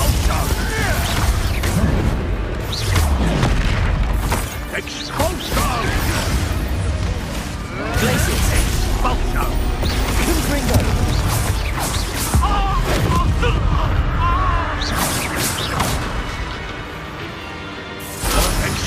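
Expulso spell blasts in the Hogwarts Legacy video game, with loud repeated crashing bursts and mechanical impacts over a dense, continuous game soundscape of combat effects.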